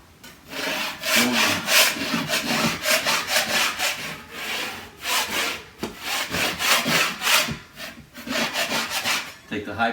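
A wainscoted wall having its high points sanded off by hand, making continuous rhythmic rasping and rubbing strokes that are close and fairly loud, with brief pauses between bursts.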